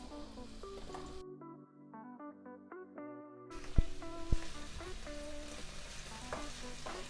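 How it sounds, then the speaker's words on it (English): Onions and garlic sautéing in a pan, a steady close sizzle and frying hiss under music, briefly cut off, then resuming with stirring knocks. "We're going to saute our onions and garlic for between 2 to 3 minutes"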